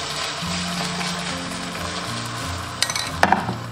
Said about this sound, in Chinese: 然后在另外一边煎一个鸡蛋。